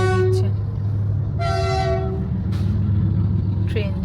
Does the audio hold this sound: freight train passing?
yes